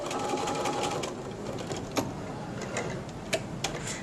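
A sewing machine stitches the fabric casing of a bookmark, running forward and then back-stitching in a quiet, steady whir with a few sharp clicks as it stops and starts.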